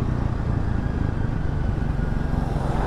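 Dense highway traffic rumbles steadily past on the Mumbai-Goa highway near the Kashedi tunnel, a continuous loud wash of engines and tyres with no clear gaps.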